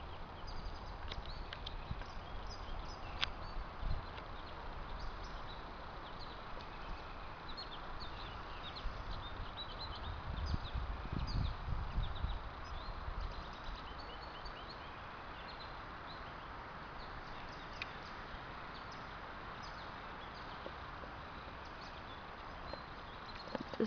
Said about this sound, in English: Just thought I'd leave off with some wind and some birds for you to listen to.